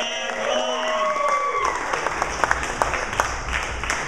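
Audience applause for comedians at the 2011 Rocky Top Comedy Contest Finals in The Square Room, rising from under a host's voice into steady dense clapping with a few sharp near claps.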